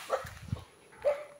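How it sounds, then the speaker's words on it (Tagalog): Angry dogs giving a couple of short barks and a whimpering yip, close and moderately loud over a faint background. "Nagagalit na ang mga aso."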